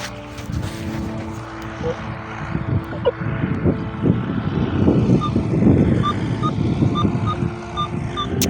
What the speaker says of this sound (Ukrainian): Там трактор гудить.